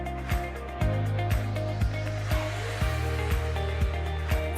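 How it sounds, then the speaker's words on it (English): A REVACU R300 vacuum sealer pumping air into a bag runs as a steady mechanical drone, with regular clicks or thumps at roughly half-second intervals throughout, close and fairly loud with no talk. "The R300 vacuum sealer will automatically inflate the bag with air and proceed to seal it securely."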